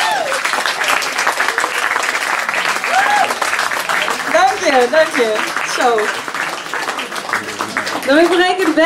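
A crowd at the Bimhuis in Amsterdam claps steadily for the band after a Dutch improv session, a dense continuous wash of applause with someone talking over it throughout.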